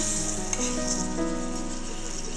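Slices of yam shallow-fry in a pan over low heat, a continuous close, even sizzle with a faint clink or two as they are turned.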